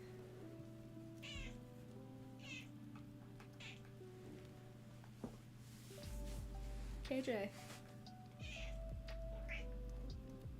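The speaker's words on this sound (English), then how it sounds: "It's weird. I hear your cat." A house cat meows several times in short, plaintive calls, fairly close, over a steady low hum, with a person speaking briefly in between.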